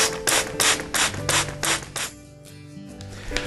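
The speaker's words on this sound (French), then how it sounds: "avec le vaporisateur, on vient simplement vaporiser la terre qu'on vient d'ajouter par-dessus la semence" A hand spray bottle mists freshly added soil covering tree seeds, giving a run of about six quick, bright hissing pumps close by, then a short pause before another spray starts.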